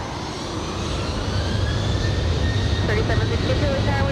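A Southwest airliner takes off from LAX runway 24 right, its jet engines building into a broad, loud roar that grows steadily stronger, with faint whining tones rising on top.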